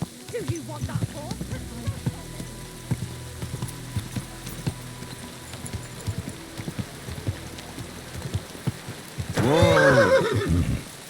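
A horse in the game Kingdom Come: Deliverance II lets out a loud, close whinny near the end, following quieter hoof clops and rain-like patter under occasional speech.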